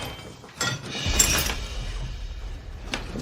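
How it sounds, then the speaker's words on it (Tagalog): Glass and household objects shatter in a sharp crash followed by a short clatter of debris, with another brief crack moments later, close and moderately loud. "Ang daming nabasag na gamit."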